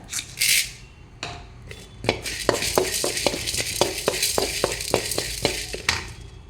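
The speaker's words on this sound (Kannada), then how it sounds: "ಈಗ ಒಂದು ಮೂರು ಚಮಚ ಕೊತ್ತಂಬರಿ ಕಾಳು ಹಾಕ್ಕೊಂಡು ಫ್ರೈ ಮಾಡ್ಕೊಳ್ಳಿ ಮತ್ತು ಒಂದು ಚಮಚ ಪೆಪ್ಪರ್" Coriander seeds and pepper dry-roasted in a pan without oil, a close rhythmic series of scraping stirs and rattling seeds, fairly loud, with no voices.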